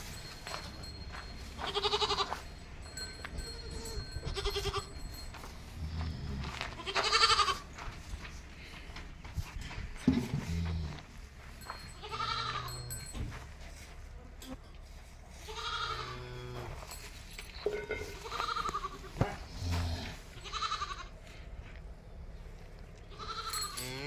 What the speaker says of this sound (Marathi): आणि आपल्या बकऱ्या ही एकच बकरी शिल्लक राहिली आहे ते दोन बच्चे